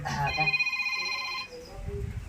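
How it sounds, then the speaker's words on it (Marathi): A telephone ringtone trills for about a second in a doctor's clinic comedy sketch, a bright repeating electronic ring that stops, followed by low murmuring voices. "आज हा मला पेशंटचा फोन आला"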